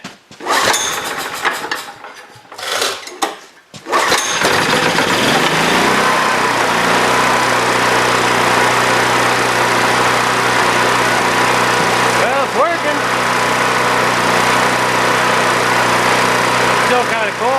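Free Honda generator engine cranks with short bursts, then catches at about four seconds and runs loud and steady, still cold and stumbling slightly, with brief voices early on.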